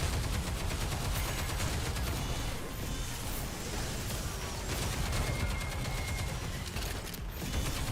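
Rapid gunfire in a video game as a player shoots at a crowd of enemies, steady and dense throughout with the dull thud of continuous shots and game effects.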